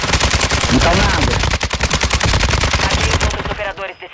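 Rapid automatic gunfire in Call of Duty: Modern Warfare III, loud and close, rattling in dense bursts with brief gaps before tapering off at the end.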